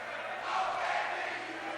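A rowdy crowd chanting at the Ohio boys water polo state championship, a loud, blurred roar of many voices that swells in the middle and carries on steadily for under two seconds.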